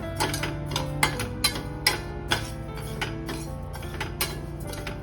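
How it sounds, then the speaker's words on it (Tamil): Rice dry-roasting in a pan for a baby's first solid food, with a utensil scraping and tapping the metal in a steady run of sharp clicks and clatters. The sounds are close by and there is no talking. "இது நல்லா வந்து வறுத்து எடுத்துக்கலாம்."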